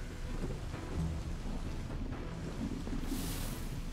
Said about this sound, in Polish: Piorun normalnie zabił chłopa!